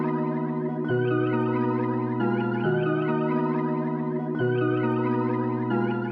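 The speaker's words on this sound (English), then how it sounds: "I pitched it up and layered it like this" A dark sample phrase, pitched up and layered, plays as sustained, wavering tones with a chorus-like shimmer. Notes shift in a slow repeating pattern at steady, full volume.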